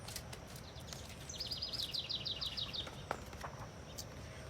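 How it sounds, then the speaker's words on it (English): Birds sing outdoors in the background, a quick run of thin, high chirps in the middle of the clip, faint and fairly distant over a low ambient hum. "I love all the birds we can hear in the background."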